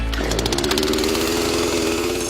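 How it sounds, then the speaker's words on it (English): A chainsaw runs steadily at close range, a loud buzzing engine drone with rapid rhythmic pulsing throughout. "you're Liz Ennis in Poughkeepsie, New York, you can fire up your trusty chainsaw"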